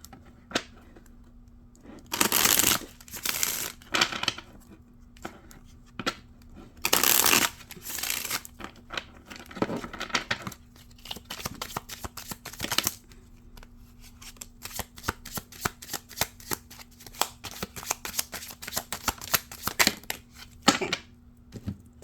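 A deck of tarot cards is shuffled in repeated bursts of riffling and slapping, some loud flurries and many lighter, quicker card flicks, close up with no talking.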